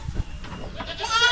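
A goat bleats close by, a wavering nasal cry rising toward the end of the short moment, with some rustling underneath.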